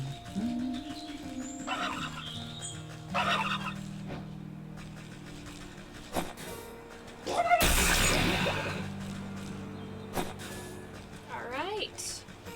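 Turkeys gobble in the video game Wytchwood, with several warbling calls repeating across the stretch alongside game music and effects, including a loud burst in the middle.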